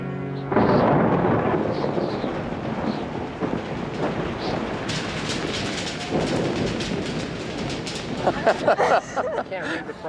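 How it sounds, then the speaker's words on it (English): A thunderstorm with rain opening with a sudden heavy crack of thunder, then continuous rumbling and rain hiss with sharper crackles toward the end. "it's raining"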